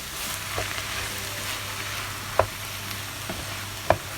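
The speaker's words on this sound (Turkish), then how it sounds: "güzelce kapya biberle de karıştırıp bir 6-7 dakika bu şekilde hiç su koymadan kavuruyoruz" Swiss chard and capia peppers frying dry in a pan without water, a steady low sizzle with a few sharp utensil clicks from stirring, close and moderately quiet.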